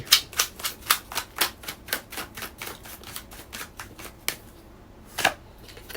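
Tarot cards riffle in a steady run of crisp, close slaps and flutters during a Thai Leo love reading, then slow to a few final isolated snaps with a brief pause near the end; no voice.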